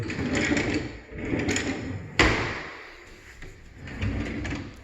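Drawers in a kitchen island slide open and shut, with rumbling runs and a sharp thud as one closes, heard close up in a house under renovation.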